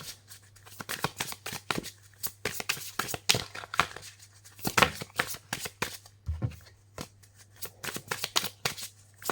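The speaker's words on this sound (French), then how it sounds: "Allez, je vais bien mélanger pour les Gémeaux." Oracle cards themed on African goddesses are shuffled by hand in a steady series of crisp riffling, slapping bursts, close and fairly loud, with no talk over them.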